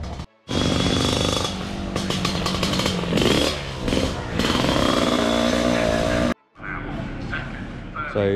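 Two-stroke Aprilia RS125 racing motorcycles at Brands Hatch, loud and close, with a dense, buzzing engine roar that holds steady for several seconds, dips briefly, then returns at a lower, fainter level.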